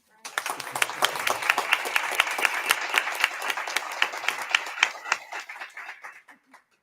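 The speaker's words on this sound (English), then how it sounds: "So we'd like to give them a round of applause." A school audience applauds the transportation division mechanics, a dense, moderately distant burst of clapping lasting about six seconds before tapering off to a few last claps.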